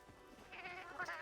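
A cat in Monster Hunter Wilds gives a short, soft meow that rises and wavers over about a second, quiet and alone.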